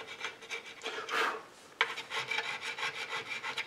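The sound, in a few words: needle file filing wood on an old model boat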